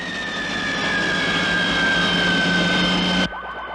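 Airplane engine roaring in a film scene, a loud steady jet whine that fills the stretch and then cuts off abruptly near the end, leaving quieter sound.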